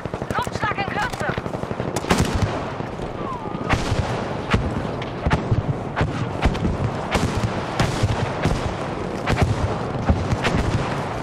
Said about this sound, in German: Wir brauchen Artilleriebeschuss an dieser Position.